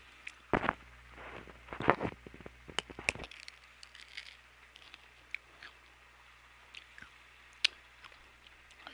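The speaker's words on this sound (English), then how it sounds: "So sorry for the crunching noises. I'm eating a candy cane." Loud, close crunching of a candy cane being bitten and chewed, with a cluster of sharp cracks early on, then quieter sporadic clicks and chewing.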